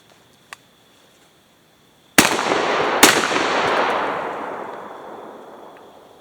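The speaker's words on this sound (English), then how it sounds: "We're shooting a buckshot first and then a slug afterwards." Two loud gunshots from a Beretta A300 Ultima Patrol shotgun, a buckshot load and then a slug about a second apart, each a sharp blast followed by a long outdoor decay, after a faint click.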